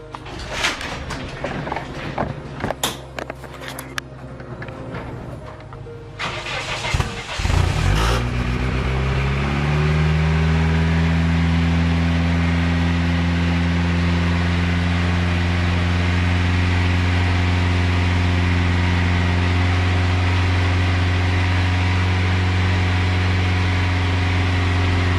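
A Toyota Supra with a newly built Eclipse exhaust cranks and fires up, then settles into a steady, loud, close idle that carries on alone, after a few clattering sounds at the start.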